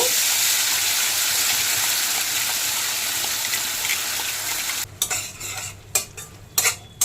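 Bottle gourd peel ground with green chilli and garlic goes into hot oil tempered with nigella seeds, making a loud, bright, steady sizzle that fades slightly before stirring clatters and scrapes take over.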